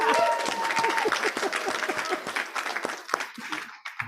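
A crowd at an assembly claps for the staff, a full burst of applause that starts loud, holds steady, then thins into scattered individual claps as it tapers off, with a faint voice mixed in at the start.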